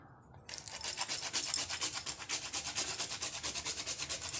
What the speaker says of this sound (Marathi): जायफळ किसून घेऊया